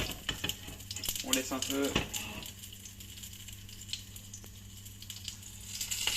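Roach fish frying in a pan, a soft continuous sizzle with occasional scraping and clinks as it is turned, while someone talks in French over it.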